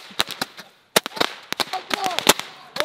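Roman candle fireworks fired at a New Year's celebration, a rapid irregular string of sharp popping bursts and whistling fizzes, close and loud, with people shouting and talking in between.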